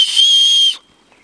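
A safety whistle built into the chest-strap buckle of a 55-litre budget trekking backpack gives one sharp, shrill blast lasting under a second, then cuts off into near silence.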